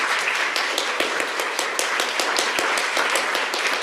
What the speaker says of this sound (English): please give some applause for Rob